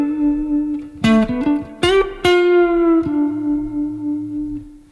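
Electric guitar soul-style solo phrase in D, with slides, plucked double stops and a hammer-on before a ringing held note, played alone and clearly.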